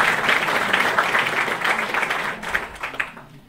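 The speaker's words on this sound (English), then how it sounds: "So let's give him another round of applause" Audience applause at a planetary science congress, a dense steady round of clapping from a crowd that tapers off toward the end.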